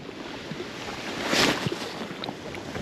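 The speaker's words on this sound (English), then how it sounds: "this wind to die down a little bit" Wind gusts across an open lake in winter, a steady broadband rush that swells briefly in the middle, with faint rustling and small knocks close to the microphone.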